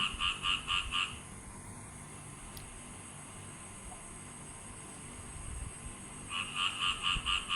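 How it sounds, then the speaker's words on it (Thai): Frogs croak at night in rapid, pulsing bursts that come in loud rhythmic runs at the start and end, with a quieter stretch of faint background noise between. "เสียงกบเสียงเขียดกระห้อง"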